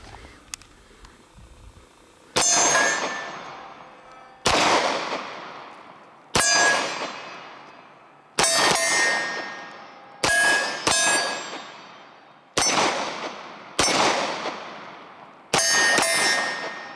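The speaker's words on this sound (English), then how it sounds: "we're going to shoot this pistol next" A CZ-75 B Cold War Commemorative Limited Edition pistol fires nine sharp shots at uneven intervals, each crack ringing out with a long, fading echo.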